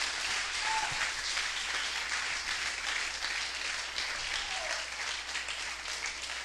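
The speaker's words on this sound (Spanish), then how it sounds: "Brinden un aplauso al Señor el que esté de acuerdo con eso" A church congregation applauds in praise, steady moderate clapping from a crowd with a low hum underneath, slightly distant and even throughout.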